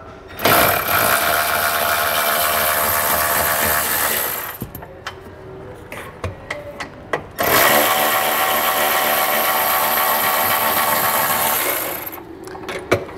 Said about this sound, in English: We're just going to take a 15 millimeter socket and remove those both